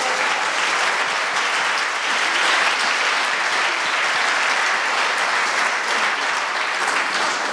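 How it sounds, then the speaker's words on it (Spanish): A church congregation bursts into strong, sustained applause that fills the room steadily and evenly from start to finish, with no voices rising above it. "Un fuerte aplauso a nuestro Dios."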